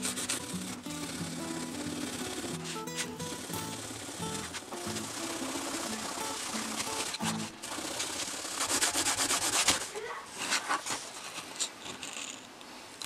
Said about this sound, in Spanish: Vamos a utilizar una esponja de estas de lavar losa para limpiar nuestro circuito impreso.